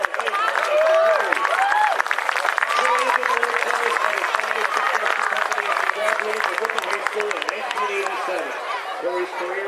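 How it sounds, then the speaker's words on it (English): A crowd applauds Corey Ballard, the 2024 Distinguished Alumni Award winner, with steady clapping lasting the full stretch at a high school event, under a lively mix of cheers and chatter. "Corey, let's give a nice round of applause"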